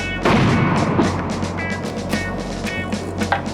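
Tank cannon fire in the Arma military game during a tank challenge, with two heavy booming shots followed by rumbling engine noise and scattered sharper reports, loud and close.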